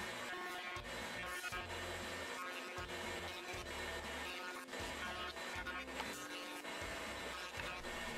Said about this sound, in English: I used a roundover bit on my router in order to smooth out all the edges.